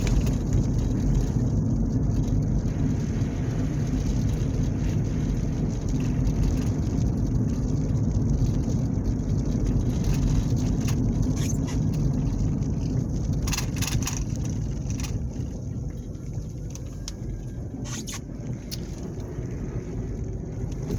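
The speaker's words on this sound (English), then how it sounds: "basically I'm just driving these country roads just because I feel like it" A car driving along country roads in Grant County, Indiana, heard from inside as a steady, loud low rumble of engine and road noise with a few faint clicks, no talking.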